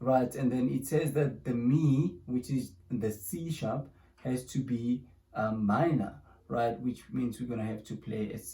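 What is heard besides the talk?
None of the usual background noises is heard.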